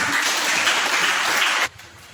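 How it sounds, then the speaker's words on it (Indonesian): A classroom of students applauding a student group, steady dense clapping from many hands that stops abruptly near the end, leaving quiet room tone. "Mari kita beri tepuk tangan untuk"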